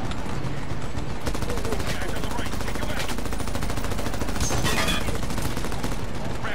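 Rapid machine-gun bursts and gunshots crackle in Medal of Honor, dense repeated firing running throughout with scattered louder reports and some voice underneath.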